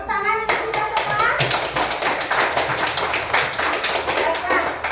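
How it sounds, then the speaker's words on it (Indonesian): Children in a primary school classroom clap together in a lively, uneven burst of applause that keeps going after a teacher's short spoken line. "Tepuk tangan untuk kita semua."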